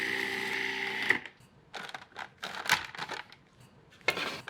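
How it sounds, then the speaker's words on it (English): Ground almonds or nuts and confectioners' sugar being ground to a fine powder in a food processor, with a loud steady motor whir for about a second, then a series of short pulsed bursts, close by. "grind this all together into a very fine powder"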